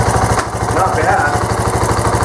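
A Suzuki GN125 motorcycle engine runs close by, a loud, even low-pitched chugging pulse with a mechanical rattle on top, steady throughout, with a voice talking over it.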